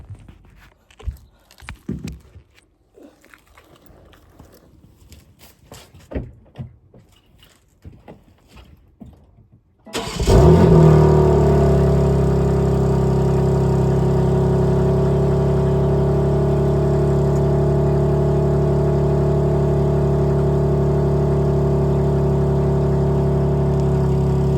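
A tuned BMW G80 M3 starts up after several seconds of quiet footsteps and handling noises, then settles into a loud, steady, deep idle that continues close by to the end.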